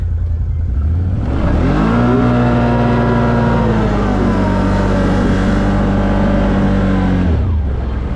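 A 2022 Can-Am Outlander 850 Max XT ATV driving in two-wheel drive with work mode off, its engine droning loud and close, rising in pitch as it accelerates, holding steady, then dropping away near the end.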